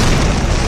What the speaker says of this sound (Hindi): एक दिन एक इमारत में बम विस्फोट हुआ।